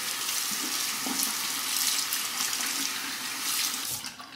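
Water running from a tap as a razor is rinsed, a steady close splashing hiss with slight changes in the flow, alone and fairly quiet.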